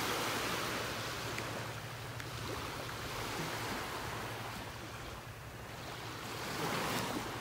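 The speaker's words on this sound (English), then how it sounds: "all of a sudden you'll just see a couple big waves going by" Ocean surf on a beach swells and washes in broad continuous rushes, loud and close, with wind buffeting the microphone throughout.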